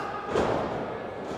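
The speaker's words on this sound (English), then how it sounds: "Oh, man, slams him down" A heavy thud as a wrestler slams an opponent down onto the ring mat during an independent pro wrestling match, a single dull impact set against the continuous noise of the crowd.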